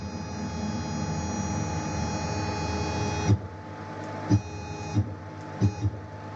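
A DDcut CNC mill driving its y-axis: a steady close motor whine and hum that cuts off, followed by several short stepping bursts with pauses between them.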